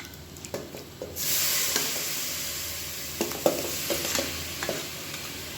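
Turmeric-and-salt-washed chicken pieces drop into a hot pan for chicken kuzhambu and burst into a loud, sustained sizzle, with sharp clatters of stirring against the pan at irregular intervals.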